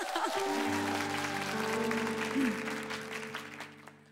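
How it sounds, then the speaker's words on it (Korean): A studio audience at a TV music show claps while the band sustains chords. The broad, fizzy clapping sits under the steady tones and fades slightly toward the end. "박수 부탁해요."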